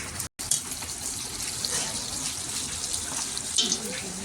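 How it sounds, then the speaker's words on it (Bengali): Spiced water pours into a pan of sizzling chicken, a steady wet hiss and bubbling that continues after a brief cutout near the start. "দেখুন জলটা দিয়ে দিল, মশলার জলটা, নাড়বে ভালো করে কষাচ্ছে"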